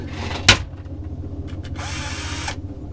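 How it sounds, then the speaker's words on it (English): Whirring power drill bursts drilling holes on a sailboat, one short and one longer, separated by a sharp knock and quieter background hum. "Have to drill a few holes."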